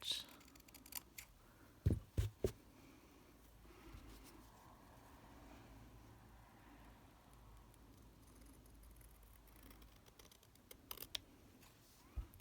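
Scissors snip through fabric being trimmed for slow stitching, a few sharp close cuts clustered early and again near the end, with quiet handling in between.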